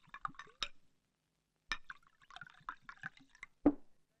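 Soda poured into a drink in a film scene: short fizzy splashing bursts and faint clinks of glass, quiet and close, with a sharper pour near the end.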